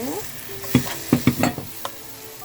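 Soaked glass noodles drop into a bubbling soy, oyster sauce, garlic and sugar mixture, with a handful of wet stirring clunks over soft sizzling.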